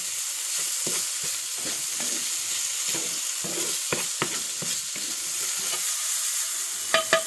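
Shrimp sizzle and fry in a hot pan, a steady crackling hiss with scattered sharp pops and stirring clatter, heard close with no talking.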